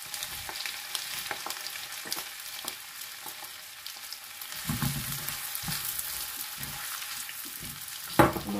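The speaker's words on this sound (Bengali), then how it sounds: "এবার আমি পোল্ল বা সসেজ দিয়ে দিব" Sausage frying with garlic in a pan for pasta carbonara gives a continuous hiss and crackle, growing busier partway through, with intermittent stirring knocks and a sharp clatter near the end.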